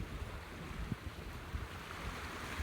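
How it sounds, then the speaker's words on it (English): Ocean waves wash and break against a shore during a fishing outing, heard as a steady roar mixed with wind buffeting the microphone, with no voices. "When these waves are crashing like this"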